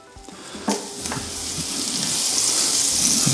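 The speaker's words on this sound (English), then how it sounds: "Now it's time to get them cooking." Vegetables hit a hot V4 griddle, with a short clatter of ingredients going down, then a steady sizzle that grows louder and fills the space.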